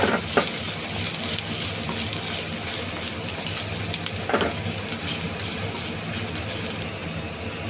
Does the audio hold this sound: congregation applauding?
no